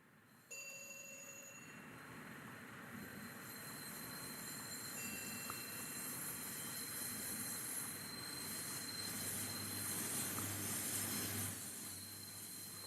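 A high-speed train on a four-track line rumbles past after a sudden onset, with steady wheel noise and thin metallic squeals that build gradually, heard from a distance.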